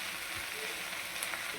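Drumstick leaves with grated coconut and salt sautéing in a pan for chutney give a steady, close, moderately quiet sizzle with light stirring scrapes throughout, and no voices.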